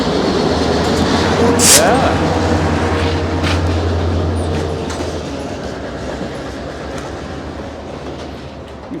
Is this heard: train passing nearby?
yes